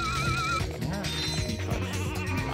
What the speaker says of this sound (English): I'm sorry, little sheep, you gotta go.